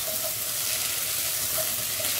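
Boiled potatoes being stirred into sautéed fenugreek leaves and onion in a pan for a methi potato thoran, a steady soft sizzle with faint scraping stirs throughout, no talk.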